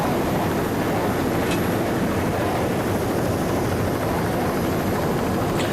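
A continuous loud roar of racing powerboats, including a 30-foot Chris Craft with three 2.4 EFI Mercury outboard motors, as a steady broadband engine drone with no talk over it, from a 1990 Freeport, NY grand prix.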